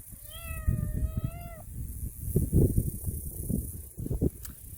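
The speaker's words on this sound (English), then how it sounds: "Are you gonna meow the whole time I'm making this video?" A cat meows once in a drawn-out, wavering cry near the start, followed by soft rustling and handling noises close by, with no talking.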